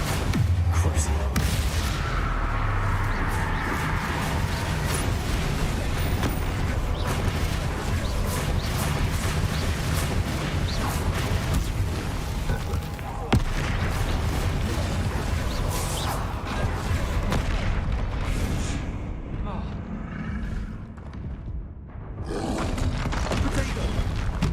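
Bombarda spell explosions during a Hogwarts Legacy battle, with repeated heavy blasts, whooshes and crashes over a dense, roaring stream of combat noise throughout, and voices heard among the action.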